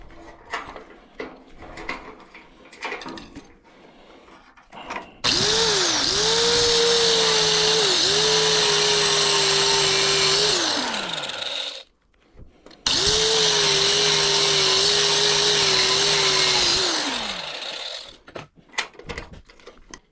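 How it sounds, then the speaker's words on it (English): A power tool grinds a utility trailer part indoors in two long, loud, whining bursts of several seconds each, separated by a short pause, with quieter clanks and handling noises around them. "Let's try grinding one real quick."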